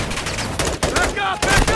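Rapid automatic gunfire in Call of Duty: Modern Warfare II, loud bursts of shots with clipped gaps and a voice talking over the firing.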